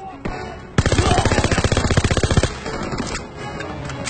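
Rapid automatic gunfire from the Call of Duty WWII game, fired through a wooden wall: a loud, dense burst of evenly spaced shots lasting under two seconds, preceded by a single shot and followed by lingering echo.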